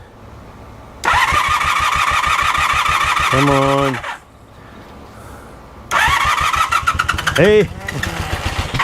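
A vintage motorcycle's electric starter cranks twice in rapid, labored chugging bursts, each run ending in a sputtering catch, loud and close, with a voice briefly heard between attempts.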